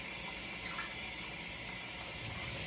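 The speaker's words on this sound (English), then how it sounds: "I'm gonna rinse it with some cold water." Cold tap water runs steadily over soaked salt cod in a kitchen sink, a continuous close hiss and splash of flowing water with no talking.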